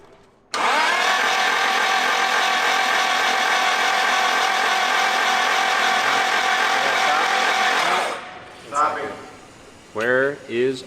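A Nissan SR20DET engine with injectors disabled cranks on the starter during a compression test, a loud, steady whirring drone for about seven and a half seconds that stops abruptly, followed by brief voices.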